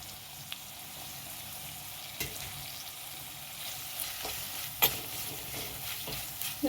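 Tomato frying with ginger garlic paste in a pan for Mangaluru-style chicken, a soft steady sizzle with occasional scrapes and clinks of a spoon stirring, fairly quiet and with no one talking.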